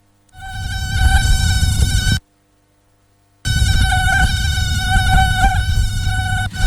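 Mosquito buzzing used as a sound effect in a radio advert: a loud, close, whining drone cuts off abruptly into about a second of silence, then resumes steadily, with no speech over it.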